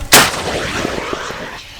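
A single powerful shot from a mounted SPG-9 anti-tank grenade launcher booms out close, followed by a rolling echo that fades over the next second and a half.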